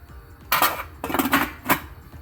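Cut potato pieces tumble into a pot of boiling water for garlic butter potatoes, giving three quick clattering splashes and knocks against the pot, close and fairly loud, with no talk over them.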